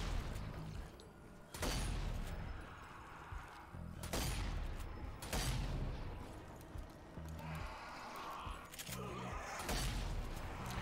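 Shotgun blasts aimed at zombies in the Zombie Army 4: Dead War co-op campaign, loud booming shots every second or two across a noisy battle with crunching impacts.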